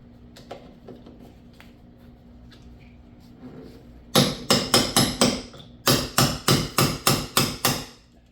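Quiet clinks and shuffling, then two fast bursts of sharp metallic hammer blows popping rivets out of a Yamaha Waverunner plastic rear corner rub rail cap, about six and eight strikes each, loud and close.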